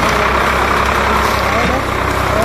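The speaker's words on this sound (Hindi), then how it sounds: "तो ट्रैक्टर स्टार्ट हो गया" A farm tractor's diesel engine runs steadily at idle in a rural sugarcane-farming setting, a loud, close, continuous low rumble throughout, with a voice speaking briefly over it.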